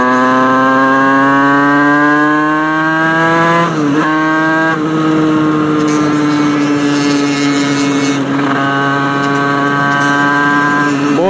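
A Yamaha YZF 125 four-stroke motorcycle, running hot on a sweltering day, holds a loud, close, buzzing engine note that rises gradually, dips briefly around the midpoint and again later, then climbs once more in steady revving.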